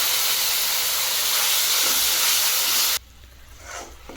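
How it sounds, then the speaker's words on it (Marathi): Water poured into hot ghee and jaggery for sesame-jaggery laddu syrup bursts into a loud, close, continuous steaming hiss that cuts off abruptly, leaving a faint simmer. "यामध्ये 2 चमचे पाणी टाकू."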